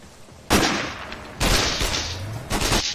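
Gunfire in the video game Sniper: Ghost Warrior, three loud, close bursts of shots separated by brief lulls, with no talk.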